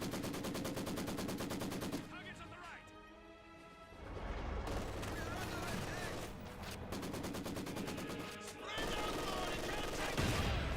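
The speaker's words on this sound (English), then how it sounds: "This gun fires. Maxim." Maxim machine gun firing in the WWII strategy game Company of Heroes 2, rapid bursts of automatic fire mixed with other gunshots and crashes, broken by short pauses.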